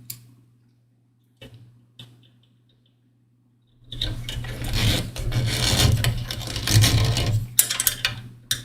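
A screw is driven into a plastic Ecto-1 model kit, with a few faint ticks first, then a buzzing, grinding rasp of rapid close-up clicks lasting several seconds, alone without talk.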